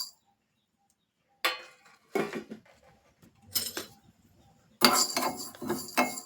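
Whole black pepper and cumin seeds are dry-roasted in a pan, heard as a few separate clinks and scraping rattles of the pan and spoon, close and crisp with quiet gaps between them.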